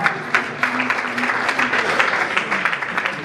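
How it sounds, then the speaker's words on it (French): A crowd applauds at an awards ceremony in the Democratic Republic of Congo, with continuous, fairly loud clapping that holds steady throughout. Faint voices mix in beneath it. "Merci, on applaudit très fort."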